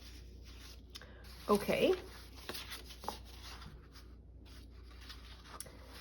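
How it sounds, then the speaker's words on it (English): A sheet of watercolor paper is folded in half by hand, giving a brief close crinkling rustle and scrape over a quiet room, with a short spoken word nearby. "So fold it in half."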